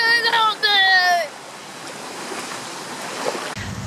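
Ocean surf washes steadily at a Hawaii beach, a continuous broad rush with a gust of wind near the end; a voice speaks briefly over it at the start.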